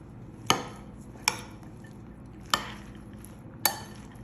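Spoon stirring fried eggplant and boiled lentils in a bowl, four distinct sharp clinks against the dish spaced about a second apart over soft background scraping.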